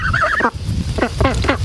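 Farm ducks roaming a chicken tractor setup quack loudly and close in a rapid series of nasal honks, one drawn-out call followed by several short bursts.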